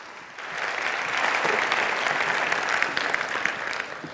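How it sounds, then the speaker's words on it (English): A conference audience gives a welcoming round of applause for a speaker taking the stage. Dense, even clapping swells after a quiet start and holds steady for several seconds. "So if we give Kenichi a really big welcome round of applause"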